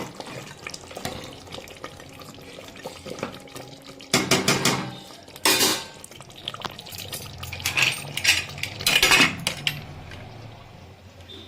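A lid goes onto a pot of mutton curry with Kashmiri chilli, giving a few clattering metallic knocks and clinks over low background hiss, with louder bursts spaced out across the clip.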